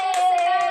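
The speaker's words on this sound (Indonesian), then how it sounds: "Yeay, beri aplaus." A brief burst of hand clapping in a classroom for a student, a few quick claps close by under a sustained voice tone.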